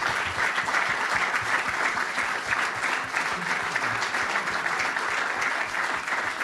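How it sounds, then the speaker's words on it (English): A round of applause from a talk audience, sustained and even for over six seconds with fairly close, dense clapping and no voices over it. "Please, a round of applause to Deana."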